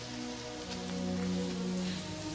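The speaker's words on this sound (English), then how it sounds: "I wish the rain would stop just once. Can't rain all the time." Steady falling rain patters on a surface, a constant close hiss with no breaks and no voices.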